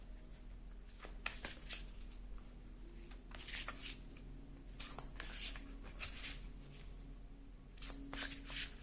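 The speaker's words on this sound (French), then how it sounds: "on va tirer une carte ici, avec les cartes de la féminité sacrée" Tarot-style cards from a sacred-femininity deck being shuffled and drawn by hand, close papery riffles and slides in uneven bursts over a low steady hum, with no voice.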